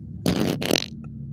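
Two loud, close fart noises in quick succession: a long, buzzy blast followed by a shorter, sputtering one. A faint tail follows.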